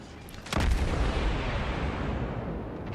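A deep naval gun salvo fires at the Karlsruhe, a tier 4 cruiser in World of Warships, with a sudden loud boom followed by a long rumbling roll that stays heavy to the end, no voices.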